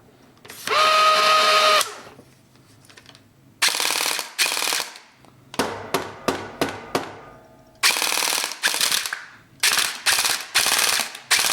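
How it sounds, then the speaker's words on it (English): A Firecow M249 SAW gel blaster fires in loud, close bursts of rapid automatic cycling, broken by short silent stops as a jam clears, then resumes with several more clattering bursts of varying length. "Did you hear that jam clear? Cycling again."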